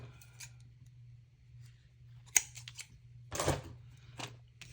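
Paper being cut with scissors while making a card, a few quick snipping strokes, then a longer burst of cutting, close and clear over a low steady hum.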